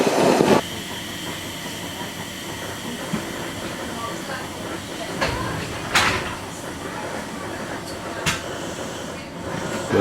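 A steady rushing roar of a fast train passing close by in Slovakia, with hissing and clattering rail noise, plus a few sharp bumps along the way.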